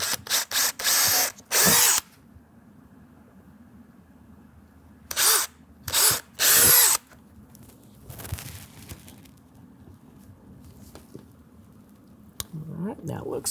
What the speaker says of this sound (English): take the 1/4 inch drill bit, put 2 holes right in here